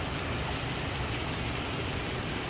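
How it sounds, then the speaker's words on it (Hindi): Heavy rain pours down in a steady, dense hiss, drumming continuously on surfaces with no pauses and no voices. "बहुत तेज़ बारिश है।"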